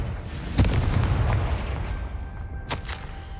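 In Hogwarts Legacy, the Confringo fire spell goes off as a booming explosion, a loud blast followed by a rumbling roar and a second, fainter pop.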